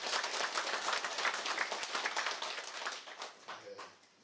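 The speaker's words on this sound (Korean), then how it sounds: "격려의 힘찬 박수를 한번 보내드립니다." Audience applauding at a city council meeting during the Naju mayor's 2017 new-year neighborhood tour, a dense burst of hand clapping that holds steady, then thins and fades out over the last second.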